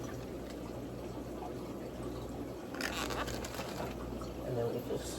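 Water pours gently from a container into a home aquarium as an oranda goldfish is released, a soft continuous splash and trickle that swells briefly near the end.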